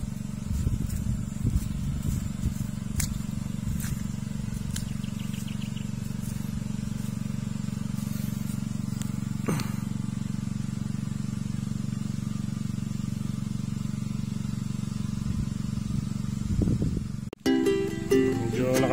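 A tilling machine engine idles low in a field, running steadily and close by throughout, with faint rustling and scraping, and a brief clatter near the end.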